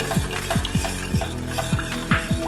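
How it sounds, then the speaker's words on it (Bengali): A spoon stirs sugar into milk to dissolve it, scraping the bowl in a steady rhythm of about six or seven close, clear strokes with no talking. "চিনিটাকে ভালো করে গুলে নিচ্ছি"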